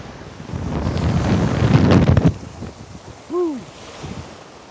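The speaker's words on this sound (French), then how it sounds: "Si le téléphone bouge, je vous dis c'est le vent" Wind buffets a phone microphone on a beach in Algeria, a loud low rumble that builds and gusts for a couple of seconds, then drops away, leaving quieter surf-like noise with a brief whistling sound.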